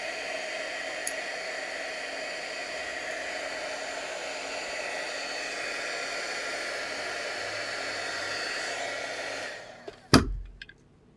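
A heat gun blows a steady, loud hiss of air while warming craft foam, running continuously for several seconds before switching off, followed by a brief clunk.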